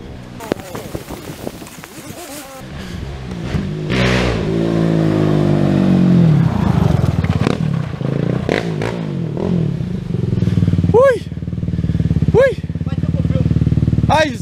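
A Suzuki LTR 450 quad bike engine revs hard nearby, rising and falling in loud bursts for several seconds while people shout excitedly over it.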